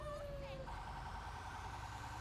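Siren of an emergency vehicle in the GTA 5 video game, a fire truck in a firefighter mod, wailing steadily with a loud rumbling engine underneath for the whole stretch, a sweeping tone changing pitch partway through.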